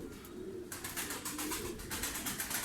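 Pigeons coo softly in a rented pigeon loft at a breeding farm, repeated low throaty calls over a faint steady background, no talking.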